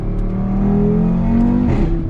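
An Audi R8 with a V10 engine revs hard, its exhaust note a loud, rising howl that climbs steadily in pitch before cutting off abruptly, heard up close from the cabin.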